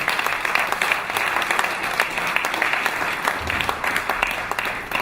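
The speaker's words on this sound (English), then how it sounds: "please a big round of applause for His Excellency General Yakubu Gowon" Applause at a business roundtable gathering in London, as a room of attendees claps steadily and continuously for several seconds, moderately loud, with individual claps audible in the dense wash.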